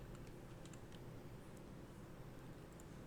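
Steady, faint keystrokes on a computer keyboard tap along continuously under a low background hiss, with no voices.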